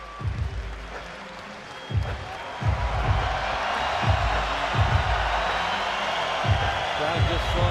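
A boxing arena crowd roars and cheers in a sustained, loud wash of noise during a bout, with repeated low thumps pulsing beneath it.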